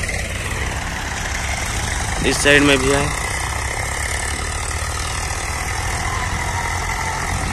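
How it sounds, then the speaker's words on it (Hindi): Tractor engines idle and run at a riverside sand loading site, a steady low mechanical drone filling the background while someone speaks briefly over it. "जो गाड़ी लोडिंग हो चुका है वो अभी जा रहे हैं नदी से और बहुत सारा ट्रैक्टर आया हुआ है"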